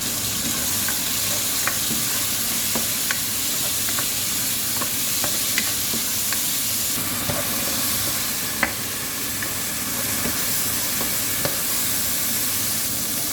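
Chicken sautéing in a pan with browned onion and garlic, giving a loud, steady sizzle and hiss throughout, with occasional light scrapes and taps of stirring; no talking.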